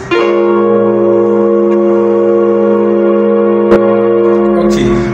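A chord held with both hands on a keyboard in a Ghanaian Pentecostal worship piano lesson, ringing steadily and loud for about five seconds with no talk, then fading near the end.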